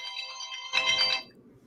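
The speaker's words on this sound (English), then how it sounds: "That's my alarm." A phone alarm rings with a bright, tonal electronic melody, close and clear, briefly getting louder and busier before stopping, with no talking over it.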